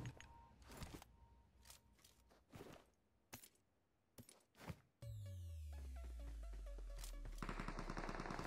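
Gunfire in PUBG Mobile, with distant single shots and short bursts cracking at intervals, then a loud, steady stretch of game effects with sweeping tones over the closing seconds.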